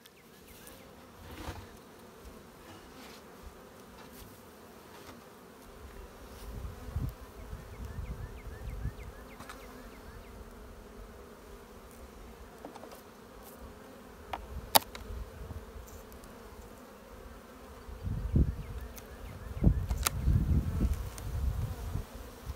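Honey bees hum around hives during a spring inspection in March, a continuous low buzz with occasional louder bees passing close, plus some handling noises and no talking.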